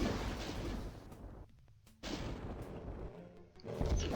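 Mancubus in DOOM firing from long range, a heavy boom-laden barrage of blasts and bursts with short gaps between volleys, loud and close-sounding amid game noise.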